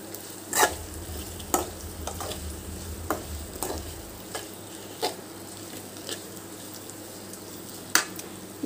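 A spiced egg mixture is stirred in a frying pan, giving a soft sizzle with sharp scraping and tapping strokes at irregular intervals. The sound is fairly quiet and close, with no talk.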